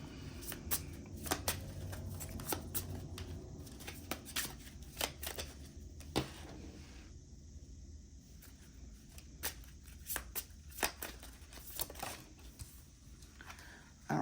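Tarot cards are shuffled for a reading, with quick, crisp riffling and slapping bursts repeating irregularly over a low room hum, close and fairly quiet.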